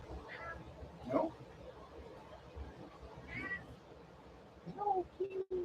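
A domestic cat meows three or four times indoors, short plaintive calls spaced a second or two apart, close to the listener, with faint background noise and a brief thump near the end.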